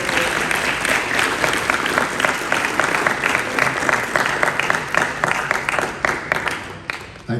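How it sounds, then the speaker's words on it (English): High school students applauding themselves at a career fair at Hollywood High School, a dense, loud wash of many hands clapping steadily throughout, close and sustained, thinning slightly near the end. "Give yourselves a big round of applause for that."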